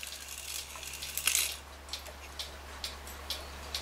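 An 8-day cuckoo clock's mechanism ticks close by before cuckooing, steady light ticks at a regular pace with one brief metallic clink, heard on its own.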